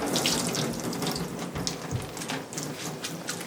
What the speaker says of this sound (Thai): มันจะมีน้ำอยู่ข้างในก็เอาน้ำออกไปก่อน